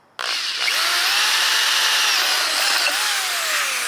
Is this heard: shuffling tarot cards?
no